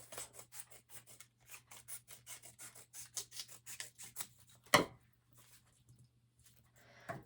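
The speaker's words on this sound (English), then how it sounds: "I'm going to cut this in half" Scissors snip steadily through a sheet of scrapbook paper in a quick run of close, crisp cuts, followed by a sharp rustle of the paper and then near quiet.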